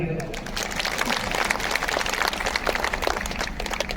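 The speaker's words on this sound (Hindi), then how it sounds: "ताली बजाओ।" Dense applause fills a Hindi poetry recital hall, a continuous wash of many hands clapping at once, steady and moderately loud throughout with no voices on top.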